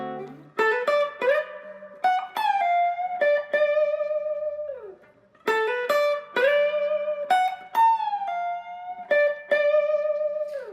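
Electric guitar lick in D with hammer-ons, slides and bends phrased in two repeated passages of clear sustained notes, played alone.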